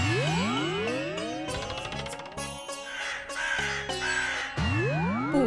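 Harsh, repeated crow caws in overlapping bursts, several birds calling loudly and close with sweeping, rising and falling cries across the whole stretch, no speech.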